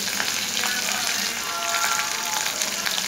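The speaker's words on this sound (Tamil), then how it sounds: "இது எண்ணெயில் நல்லா வதங்கட்டும்." Ginger, garlic, onion and curry leaves sauté in hot oil for an idli-dosa chutney, giving a steady, close, broadband sizzle that holds evenly throughout with no talking.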